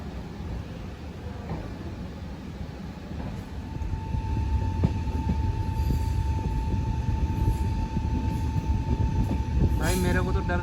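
The 14720 Amritsar–Bikaner Weekly Express rolls around a sharp U-shaped curve, its wheels holding a thin, steady squeal over loud rumbling and clatter that swells midway, with voices faintly underneath.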